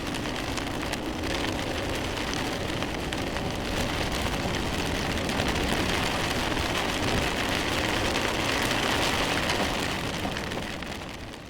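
Steady heavy rain pours down for the whole stretch, a dense continuous hiss of drops drumming on a surface with no voices.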